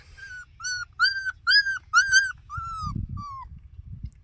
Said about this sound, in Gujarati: ચાર ગલુડિયા છે